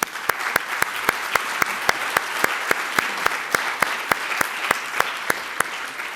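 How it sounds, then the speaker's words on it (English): Sparse, evenly spaced sharp claps, seemingly from one or a few people, roughly three to four per second over a soft background hiss, following a sports intellectual property panel. "so we can applaud them"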